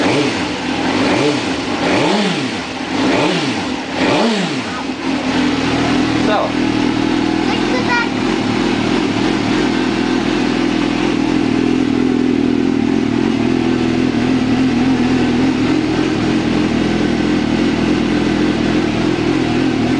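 2005 Suzuki GSX-R750 sport motorcycle with a broken exhaust revved hard several times in quick succession, loud rising and falling blips close by, then settling into a steady idle drone while people talk over it.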